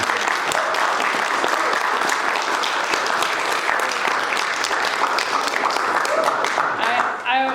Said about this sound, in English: And one more round of applause, please.